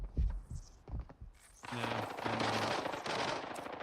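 Gunfire in the Arena Breakout shooter game: a few sharp shots early on, then a dense, sustained burst of rapid fire with a steady droning tone underneath, loud and close.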